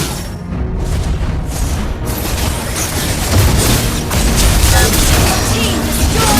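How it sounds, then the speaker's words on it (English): A turret is destroyed in a video game amid loud, dense crashing booms and mechanical rumbling that fill the whole stretch, intensifying toward the middle and end. "Team destroyed the turret."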